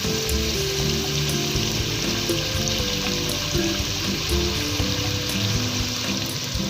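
Ginger-garlic paste mixed with green chili sizzles and fries steadily in a karahi, a dense, continuous crackle heard up close with faint stirring.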